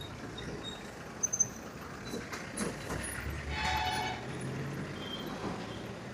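A horn blares over the rumble of a passing train, with steady traffic-like background noise throughout.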